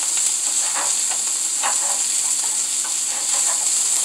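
Onion and garlic frying in a pan for a keto cauliflower rice dish, a steady bright sizzle and hiss with faint crackles and pops throughout, close and continuous, no talking.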